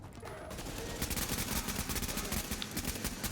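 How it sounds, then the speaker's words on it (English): Rapid automatic fire from an AUG submachine gun in The Division, sustained bursts of close, loud shots crackling for several seconds with barely any pause. "this gun I'm using now, the AUG?"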